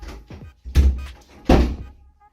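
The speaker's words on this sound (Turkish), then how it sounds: "Kalk da kapıyı ört kapıyı ört." A door thuds shut twice in a home, two heavy close-range bangs about a second apart, with faint footsteps and movement around them and no talking.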